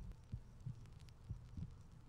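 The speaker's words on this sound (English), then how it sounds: "Oh, that's a heartbeat." A slow, muffled heartbeat thumps in pairs in a tense horror video game, low and steady beneath a faint ambient hum.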